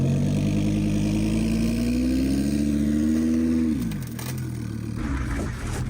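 Lamborghini engine revving loud and close with a steadily rising pitch during a launch from a giant slingshot, then dropping off abruptly into a lower rumble near the end.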